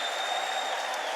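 A church congregation claps and ululates in praise, a dense continuous wash of hand claps at moderate level with a steady high whistling tone running beneath it, brief and unbroken.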